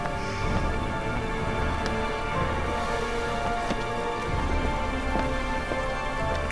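Steady rain falling in the video game Heavy Rain, a dense, even patter of drops that holds at the same level throughout with no voices.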